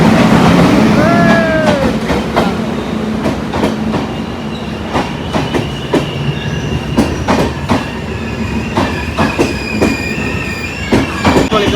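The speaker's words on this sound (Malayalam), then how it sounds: "ഇതാണ് ട്രെയിന്" Passenger train at a railway station platform: loud rolling wagons with rhythmic clickety-clack of wheels over rail joints, a brief wheel squeal early on, and people talking nearby over the noise.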